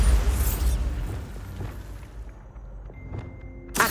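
A Bombarda spell goes off in Hogwarts Legacy with a dense, rumbling blast that decays over a couple of seconds, followed by scattered debris clicks and a sharp new burst at the end.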